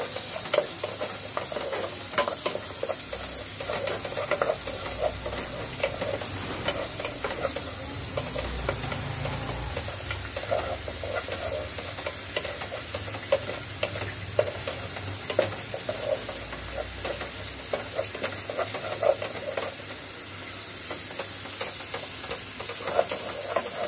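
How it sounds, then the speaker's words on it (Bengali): Cardamom, cinnamon and a bay leaf frying in hot oil for a quick home-cooked dal, giving a steady close sizzle with occasional stirring scrapes throughout, no voices. "এখন এগুলো ভালো করে ভেজে নেব।"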